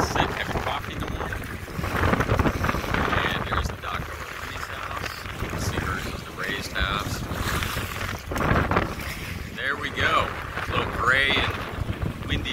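Strong wind gusts across a microphone on a waterside dock behind an Outer Banks rental house, a steady broadband rush with louder buffets throughout, with water and boat noise faintly mixed in.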